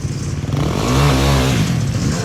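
Motorcycle engine revving hard during a drift U-turn, a loud close buzzing drone that swells and holds steady for a couple of seconds with no one speaking.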